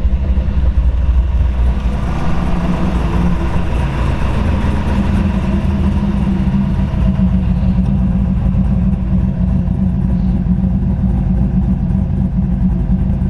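A 1999 Chevrolet Corvette convertible with a Lingenfelter 427 V8 making about 600 horsepower runs close by, a steady deep idle rumble that holds without pause and with no voices.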